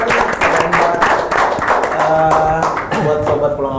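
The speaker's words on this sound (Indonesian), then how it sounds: "Tepuk tangan sekali lagi yang meriah." A studio audience gives a round of applause at a Ramadan talk event, steady rapid clapping from many hands under a host's continuous speaking voice.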